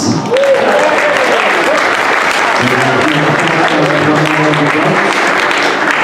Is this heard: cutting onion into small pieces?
no